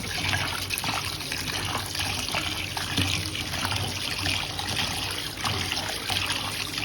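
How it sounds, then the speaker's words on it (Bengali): Tap water runs steadily over raw chicken being washed in a kitchen, a continuous close splashing trickle with no talk. "এখন আমি চিকেন নিয়েছি, ভালো করে ধুয়ে পরিষ্কার করে নিব।"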